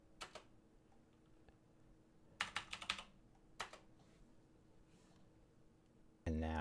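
Keystrokes on a computer keyboard entering Linux terminal commands, arriving in short clustered bursts of quiet, close clicks separated by pauses, ending with a louder sustained sound.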